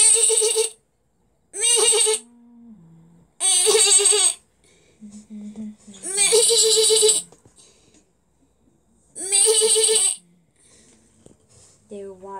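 Sheep bleat in a children's Bible story about shepherds watching their flock, sounding as several loud, wavering calls in separate bursts with short quiet gaps between them.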